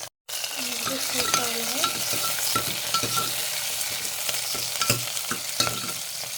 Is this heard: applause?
no